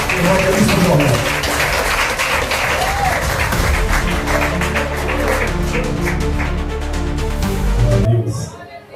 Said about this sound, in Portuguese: as palmas louvam a Jesus